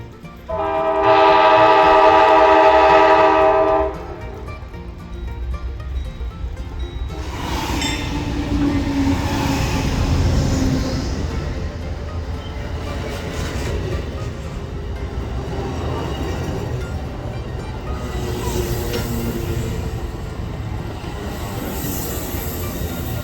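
A loud horn from Amtrak's California Zephyr passenger train blasts for several seconds, then the rumble and clatter of the passing train continues steadily, with a distant horn later.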